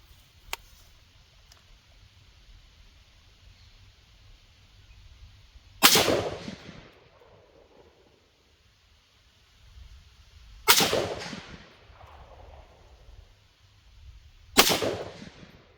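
Three sharp PTR 91K rifle shots ring out well apart at an outdoor range while a red dot sight is zeroed, each crack followed by a brief echo against a quiet background.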